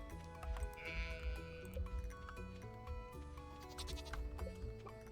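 A farm sheep bleats in the Stardew Valley video game, short cartoonish calls over steady game music and hoof-like clip-clop effects.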